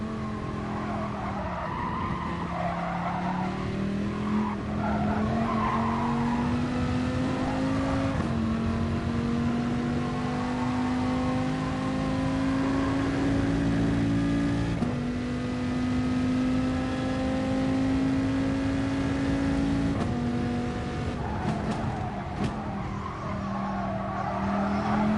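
A GT race car in a racing video game runs a practice lap, its engine droning steadily and rising through the gears with brief shift dips while tires squeal and skid through corners, loud and continuous for the whole stretch.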